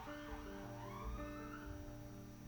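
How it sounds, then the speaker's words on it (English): Sirens pass by outside, a faint wailing tone rising and falling in the distance over a low background hum, with no talking. "letting the sirens go by in case that mic picked up."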